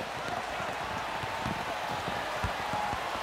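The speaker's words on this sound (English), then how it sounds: "You can hear the heavy rain now thumping on our microphones on the field." Heavy rain pelts the on-field microphones at a Notre Dame vs. Clemson college football game, a steady dense hiss with soft irregular thumps throughout.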